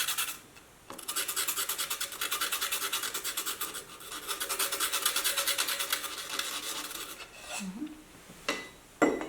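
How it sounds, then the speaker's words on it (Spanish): A stick of charcoal for a chiaroscuro drawing is rubbed on sandpaper to sharpen its point, giving a steady, fast, gritty rasp for several seconds before it stops with a few faint taps. "regresar a la lija y sacarle un poquito más de punta."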